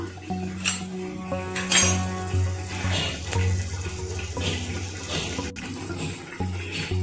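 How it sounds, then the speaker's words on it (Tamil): Water runs and splashes into a metal pot of prawn biryani, the pitch rising as it fills, with a few clinks of the vessel. "தண்ணி சேர்த்துக்கிறேன் ரெண்டு கேசரி பொருளும் இந்த அளவுக்கு தான் தண்ணி சேர்த்துக்கிறேன்"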